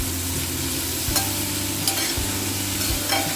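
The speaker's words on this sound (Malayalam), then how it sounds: "ഇത് നല്ലൊരു ബ്രൗൺ കളർ ആകുന്ന വരെ നമ്മളിത് വഴറ്റി കൊടുക്കണം" Sliced onions sauté in a pan toward golden brown, a continuous loud sizzle with occasional scraping stirs, no voices.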